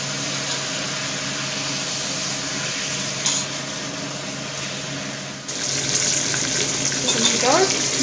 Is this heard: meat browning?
yes